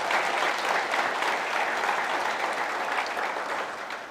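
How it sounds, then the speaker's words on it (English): Sustained audience applause fills a summit event hall, a dense steady clapping from a crowd that holds for several seconds before tapering slightly at the end. "we should give Sydney a big round of applause for the work here"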